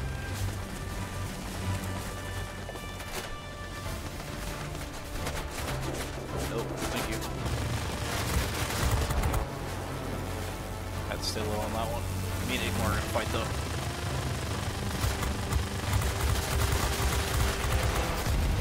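Bursts of rapid aircraft cannon fire and explosions from World of Warplanes, loud and clattering, with a voice talking over the noise.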